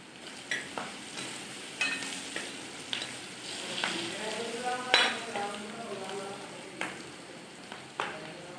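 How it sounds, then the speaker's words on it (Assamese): Onions frying in a pan with crushed garlic added, a steady close sizzle with intermittent clinks and scrapes of a spoon stirring against the pan, occasional soft voice beneath. "পিঁয়াজখিনি ৰঙা নোহোৱালৈকে ভাজি থাকিম।"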